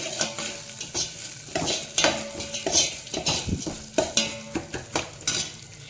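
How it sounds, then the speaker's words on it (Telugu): Raw moong dal being dry-roasted in a pan and stirred with a spoon, giving repeated scraping strokes, light clinks of utensil on metal and a faint sizzle, steady and close with no talk. "ఈ పెసరపప్పు ఒక్కసారి వేచుతామండి. పచ్చివాసన పోయేలాగా ఒక్క నిమిషం ఇలాగా వేయించుకోవాలి."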